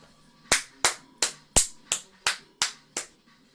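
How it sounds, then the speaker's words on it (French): Eight sharp, evenly spaced hand claps ring out alone at a steady, deliberate pace in a quiet room. "Je m'applaudis tout seul."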